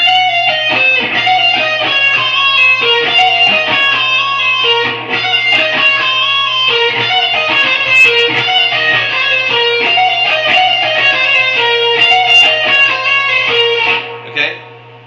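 Electric guitar playing the solo run from a song, a fast stream of picked notes in steady rapid rhythm, bright and close, ending on a held final note that fades out.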